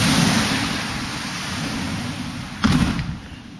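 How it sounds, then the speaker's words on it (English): Outdoor rain from Tropical Storm Fay in August 2008, a loud, broad steady hiss of falling water, with a sudden brief gust or splash surge near the end. "fourth day of us getting rain from this"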